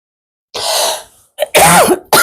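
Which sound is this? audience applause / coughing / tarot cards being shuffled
coughing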